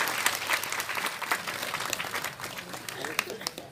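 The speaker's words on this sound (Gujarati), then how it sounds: "તાળીઓના ગડગડાટથી આપણે વધાવી લઈશું" A crowd at a women's convention at Shri Gayatri Pragya Peeth in Gingani claps in a dense, steady round of applause, with scattered sharper claps standing out and a murmur of voices underneath.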